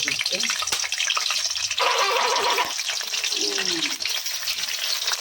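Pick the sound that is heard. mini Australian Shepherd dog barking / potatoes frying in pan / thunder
potatoes frying in pan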